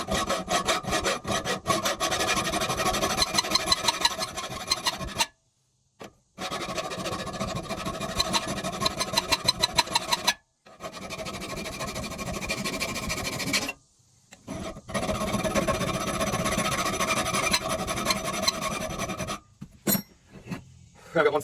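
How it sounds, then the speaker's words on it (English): Hand file rasping along a leaf spring camp knife blade, long rhythmic back-and-forth strokes in close, loud bursts of several seconds separated by brief pauses. "I'm also going to take my file and clean up right here"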